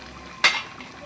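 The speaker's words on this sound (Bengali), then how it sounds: "আমি এবার একটু ঢাকা খুলে দেখবো।" A metal pot lid is lifted off a pot of simmering chicken curry with potatoes, giving a single short clatter midway through, with a soft bubbling hiss around it.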